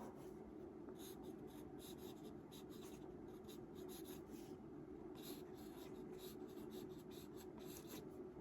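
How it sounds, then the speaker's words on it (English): A Lamy fountain pen with a broad steel nib scratches across paper in quick rhythmic strokes, faint and close, with short pauses between words. "I'm going to write this the broad steel nib"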